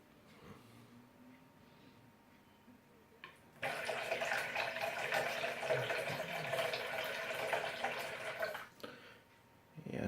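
A small pump in a water level sensor demo starts up and runs, a steady rushing, swirling water noise for several seconds before cutting off, fairly quiet and close.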